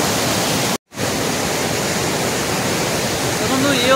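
Roaring waterfall at Ram Tirtha in Simlipal, a loud, steady broadband rush of falling water that fills the whole clip, broken once by a brief dropout near the start.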